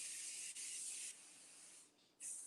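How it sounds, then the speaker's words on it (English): Cooking spray hisses onto a pan in two steady bursts, a long spray broken by a short gap, then a pause and another brief spritz, close and fairly loud with no talking. "the spray on the pan."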